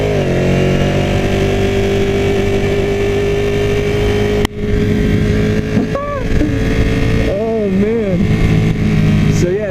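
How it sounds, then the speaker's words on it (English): A 2016 Ducati 959 Panigale V-twin motorcycle is ridden, its engine a loud, close, steady drone that drops in pitch and then rises and falls in revs through gear changes, with a rider talking over it. "the sound of these V-twins, man. They just have so much character."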